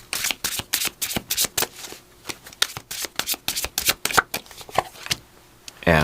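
Pamela Smith tarot cards are shuffled by hand, producing rapid, close, crisp riffling bursts in uneven clusters with brief pauses between, loud and intimate with no talk.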